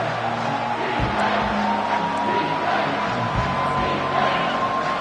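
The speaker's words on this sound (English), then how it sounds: "Here comes this home crowd as the defense tries to get off the field on 3rd down." Home crowd in the college football video game NCAA 25 roaring on third down, a loud sustained stadium swell with whoops and a steady whistle-like tone, dense and continuous.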